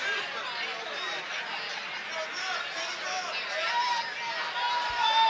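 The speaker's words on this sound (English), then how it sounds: "You hear people in the crowd saying stand him up" Crowd at a Lethwei or mixed martial arts bout involving Brett Pastore, a steady moderate murmur of many voices with scattered shouts carrying throughout, no single voice standing out.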